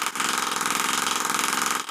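Homemade air-powered piston engine running on regulated air pressure, giving a steady rapid pulsing hiss and chuff that stays loud and close for nearly the whole stretch with a brief dip near the end.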